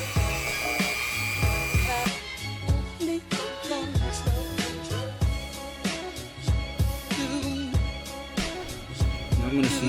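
A handheld Dremel rotary tool cuts through a car door card panel, giving a loud, continuous high-pitched whine with repeated bursts and dips as the cutting wheel bites into the material.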